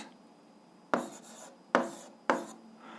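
An algebra equation being written by hand, with a pen scratching on paper in three distinct short strokes, each starting with a sharp tap and then a brief scraping rub, close and quiet with no talking.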